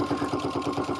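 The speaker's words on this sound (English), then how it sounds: "I'm just sewing like 1/8 of an inch through that vinyl" A sewing machine stitches about an eighth of an inch through vinyl, a steady, close, mechanical whir with a fast, even pulsing rhythm throughout the brief moment.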